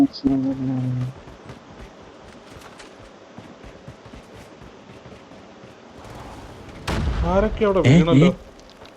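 Gunfire in the mobile shooter game Call of Duty Mobile: sharp bursts of shots and booms pop under excited voices talking over the gameplay.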